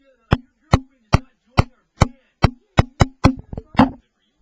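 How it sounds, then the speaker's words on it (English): Knocking on a door downstairs: about nine sharp, evenly spaced knocks that speed up into a flurry at the end, loud and close with no talk. "Simon then heard a knocking coming from downstairs."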